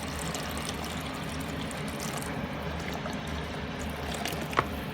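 Water poured into a cooking pot while rice is being prepared for a Senegalese chicken-and-rice dish, a steady close pouring and trickling wash with a brief splash near the end and no talk.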